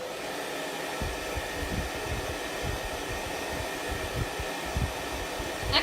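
A hair dryer blows steadily on acorns for several seconds, a close, loud, even airy whoosh with a slight rise near the end and no talking.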